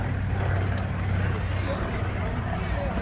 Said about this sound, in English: the B-25, they're going to do a photo pass